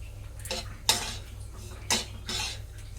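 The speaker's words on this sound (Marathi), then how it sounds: "असा हलवत राहिला ना की भाजतो छान आपला" Semolina stirred and dry-roasted in a pan for mango sheera: a spoon scrapes against the pan in steady strokes about a second apart, fairly close, over a low background hum and with no talk.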